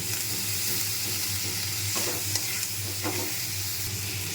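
Vegetables tossed into a hot pan on reduced heat, a steady close sizzle and frying hiss with a few stirring scrapes, continuous and without talk.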